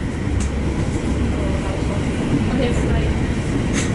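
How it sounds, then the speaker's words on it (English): Steady rumble and rattle of a train in motion in the Netherlands from onboard, with clicking wheels as it overtakes a Sprinter train alongside. "we're about to overtake a Sprinter light train"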